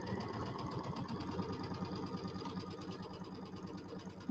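Home sewing machine with its embroidery unit still attached stitches steadily in a quiet room, a soft, even mechanical whir with a regular rapid clicking rhythm and no talking.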